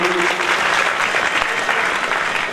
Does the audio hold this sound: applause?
yes